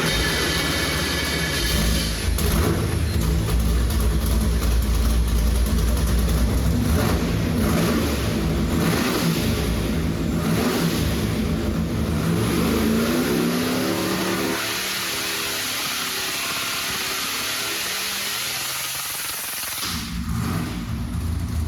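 Car engine with a blow-through carburetor revs hard on a dyno, climbing in a loud sustained pull before easing off to a lower drone toward the end, with no talk over it.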